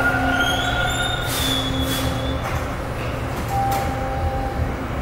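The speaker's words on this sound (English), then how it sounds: "This is the train that I'm gonna take now." A Toronto TTC westbound subway train rumbles loudly through a station, with high metallic wheel squeals rising and fading over the continuous roar.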